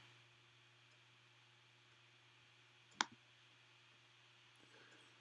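A single sharp computer mouse click, then a fainter second click, sounds over a quiet electrical hum while clicking through photo filters in Color Efex Pro 4 software.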